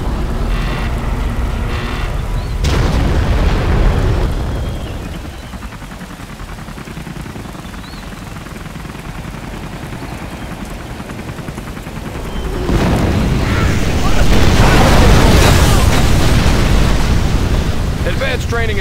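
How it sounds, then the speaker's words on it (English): Nuclear missile launch and detonation in the strategy game C&C ShockWave: a loud rumbling roar that dips in the middle, then a heavy blast with a broad, sustained rush of noise. "Launching nuclear missile."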